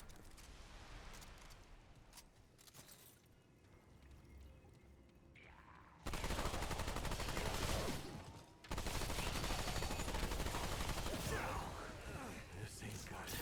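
Rapid bursts of gunfire in Remnant II, loud and dense from about six seconds on, after a quieter stretch of scattered shots and rumble.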